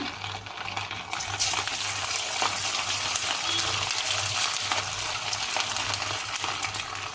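Rava vadas made from Bombay semolina frying in hot oil give a dense, steady close sizzle and bubbling that rises slightly after the first second and holds throughout.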